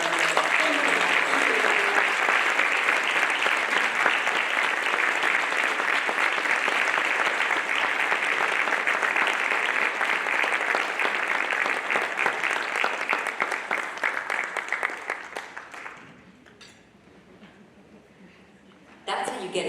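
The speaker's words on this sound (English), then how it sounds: "a round of applause for our" A large audience at a luncheon applauds loudly and steadily for about fifteen seconds, then the clapping fades out, leaving quiet room noise.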